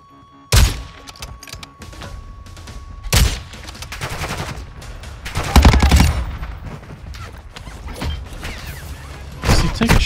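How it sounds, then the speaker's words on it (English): Gunfire rings out in Call of Duty DMZ, with several sharp, loud single shots spaced a few seconds apart over a quieter bed of ambient noise and small thuds. "Is he taking shots at me?"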